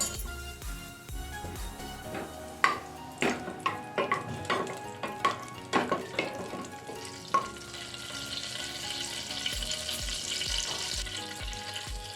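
Spices frying in a little oil and butter in a pressure cooker: a burst of quick, bright clicks and pops near the pan, then a rising, steady sizzle settles in with soft low knocks underneath.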